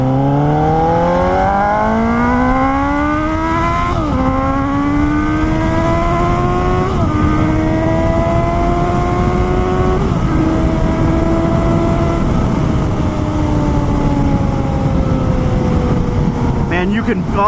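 A 2018 Suzuki GSX-S 750 motorcycle ridden hard, its engine note climbing through several gears with brief dips at each upshift, loud and close throughout with wind rush.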